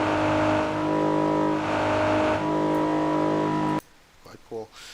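A Nissan 370Z engine note in a racing simulator drones and revs with a steady harmonic buzz that rises and falls for nearly four seconds, then cuts off abruptly. A few faint sounds follow after it stops.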